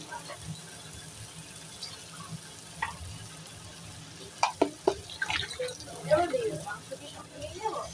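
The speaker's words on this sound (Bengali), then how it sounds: "এবার মশলার বাটিটা ধুয়ে একটু জল দিয়ে দেবো" A spice bowl is rinsed with water, with soft trickles and a burst of close splashing and dripping near the end that follow a quieter stretch.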